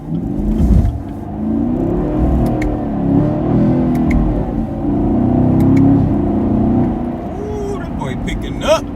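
A 2019 Camaro SS accelerates in sport mode while losing traction, a loud steady engine rumble and whir rising and falling throughout, with someone talking over it.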